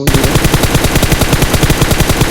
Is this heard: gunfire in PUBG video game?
yes